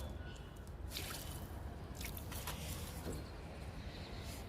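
Water pours from a container onto a young lemon plant, making a steady, close splashing trickle that carries on for several seconds with no one talking.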